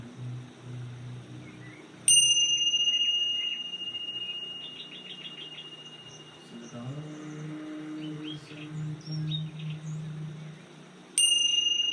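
A meditation bell is struck twice, each strike ringing out bright and clear before slowly fading, with faint cricket-like chirping and soft ambient tones in the quiet between.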